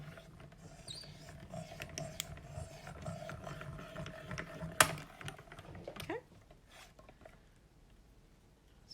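Hand-cranked die-cutting machine pressing a plate sandwich for card stamping: faint, irregular clicking and grinding rattles with a low rumble, ending in a louder clack before it goes quiet, with no voices.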